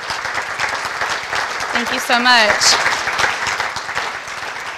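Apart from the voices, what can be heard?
audience applause for the forum participants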